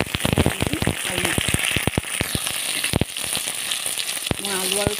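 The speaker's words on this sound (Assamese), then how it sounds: "মই আলু আৰু পিঁয়াজ একেলগে ভাজি ভাজি ল'ম।" Potatoes and onions frying together in a pan, a loud close sizzle with sharp crackling pops and spatter, while a voice speaks briefly near the end.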